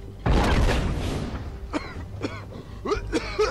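In The Last of Us multiplayer, a character caught in smoke coughs hard: a loud burst of harsh coughing and throat clearing, then several shorter, quieter coughs spaced out, close up.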